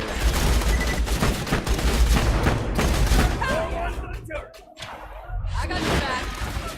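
Rapid gunfire and explosive impacts in the shooter game Borderlands 2, a loud dense burst of shots that thins out briefly before resuming, with voices heard amid the action.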